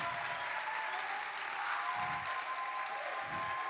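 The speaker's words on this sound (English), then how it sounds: "Please, Ian, this applause is for you" Audience applause closing a film festival masterclass, a continuous wash of clapping at steady volume with a faint low rumble underneath.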